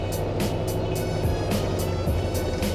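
A manual transmission car pulling away slowly in first gear as the clutch is released, a steady low engine rumble heard from inside with faint rhythmic thumps over it.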